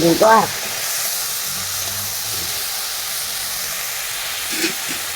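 Ginger frying in a pan for a home-style rice accompaniment, a steady close sizzle holding throughout after a brief burst of voice at the start.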